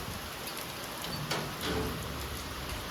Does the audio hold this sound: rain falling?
yes